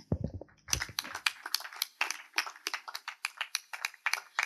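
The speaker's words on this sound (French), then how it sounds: "si nous pouvons l'applaudir" A small group at a press conference claps for a songwriter, starting after a brief low thump, with quick irregular hand claps continuing at a moderate, fairly close level.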